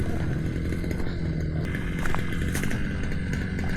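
A grass cutter engine runs steadily and loud throughout, its continuous buzzing drone holding without pause in an outdoor field setting.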